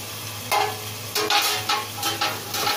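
Tomato and spice masala sizzles in a pan and is stirred in several scraping bursts, a close, steady frying hiss underneath with no talking.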